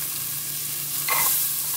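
Onions sizzle in a hot pan for meatballs with sauce, making a dense, continuous frying hiss close up that swells briefly near the end. No one speaks.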